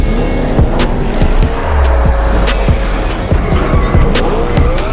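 A brand new Porsche Panamera Turbo S with 620 horsepower drives along, its engine and road noise holding as a loud, steady roar throughout, with faint sharp ticks and clatter on top.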